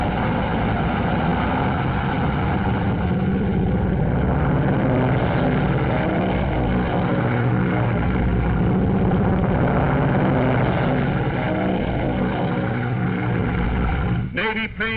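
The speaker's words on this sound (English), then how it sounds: "Navy planes roared from the decks of our carriers, army bombers, marines, thundered destruction over a 300-mile battle area." Navy warplanes roar from carrier decks over a wide battle area in a wartime newsreel. A dense, continuous engine roar fills the clip at high, steady loudness with a thin, old-film tone.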